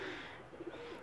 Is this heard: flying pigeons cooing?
yes